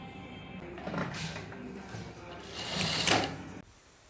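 A sewing machine stitching a dress, two whirring runs close by, the second louder and longer, each easing off before the motor stops.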